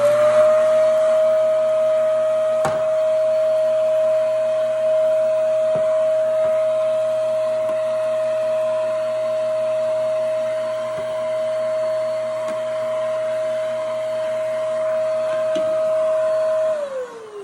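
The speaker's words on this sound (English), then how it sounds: "I love this vacuum" A household vacuum cleaner runs steadily for about seventeen seconds, a constant tonal whine over a low motor hum, with a few faint knocks along the way before it powers down and the pitch drops at the end.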